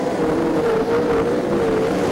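Race cars on a speedway track at Geelong, a continuous loud engine roar from several cars running together, steady and sustained throughout.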